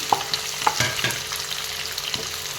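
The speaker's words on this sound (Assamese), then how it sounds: "ইয়াতে এতিয়া মই পিঁয়াজ আৰু গোটা মছলাখিনি দিলোঁ" Onions and whole spices (cloves, cardamom, cinnamon) frying in hot oil in an Indian kadai, a steady close sizzle with a few sharp clacks of stirring, no talking.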